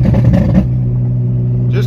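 A 2009 Honda Accord V6 coupe with a straight-pipe exhaust and electric cutout, heard from inside the cabin, gives a loud, rough burst of acceleration that settles into a steady, deep drone, with a voice faintly present.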